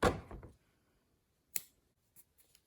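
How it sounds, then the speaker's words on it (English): Scissors snip crochet yarn while granny squares are joined: a soft rustle of handling, then one sharp close snip, followed by a few faint light clicks. "just snip that off"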